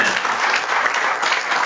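A church congregation applauding a pastor and his wife, with dense, steady clapping from many hands filling the whole short moment, loud and close.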